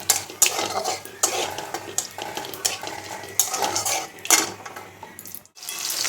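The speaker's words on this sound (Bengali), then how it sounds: "পেঁয়াজগুলো ছেড়ে দিই একটুখানি নুন দিয়ে দিই" Onions dropped into hot oil tempered with cumin, a bay leaf and a dried chilli, then stirred in the pan: busy sizzling under repeated utensil scrapes and clinks against the pan, close and fairly loud, with no talking.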